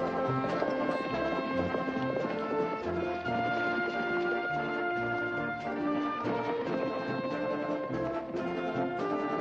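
Horse hooves clip-clopping in a 1960s Western series, a steady rhythmic clatter heard under a bed of music throughout the scene.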